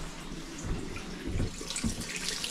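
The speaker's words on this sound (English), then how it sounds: "at least we've got some hot water on this one." Hot water runs from a tap in a cheap bed-and-breakfast room, a steady close splashing stream with a few louder gushes and no talk.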